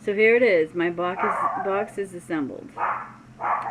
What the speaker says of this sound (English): excuse the dogs that bark.